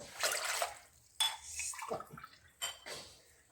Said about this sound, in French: Je vais mettre 6 verres, 3 verres d'eau pour 1 verre de riz.